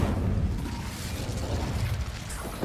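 The Incendio fire spell goes off in Hogwarts Legacy during a magic duel, a loud, dense whooshing burst with crackling pops that fills the moment alone, without voices.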